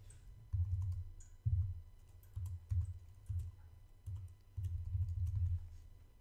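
Computer keyboard typing, several short bursts of quiet key clicks separated by brief pauses, close and alone without any talk.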